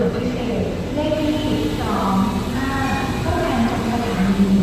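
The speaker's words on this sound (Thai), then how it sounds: "นี่ครับรถไฟรถนอนพิเศษเราพึงมาถึง อุดรธานีครับ" A special sleeper train rumbles and squeals as it slows into Udon Thani railway station, Thailand, with metallic screeching and rolling noise while someone talks over it.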